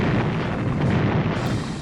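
A ship is destroyed in the World War II strategy game Strategic Command World at War, a dense, continuous explosion rumble that stays loud and steady throughout, with no voices over it.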